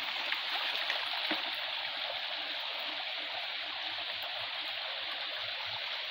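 Fast-flowing stream water runs over a small check dam in a forest, a steady, moderately faint rushing and trickling with an occasional soft splash, no talking.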